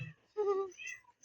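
A cat meows once, clear and close, with a rising then falling tone in a quiet indoor setting.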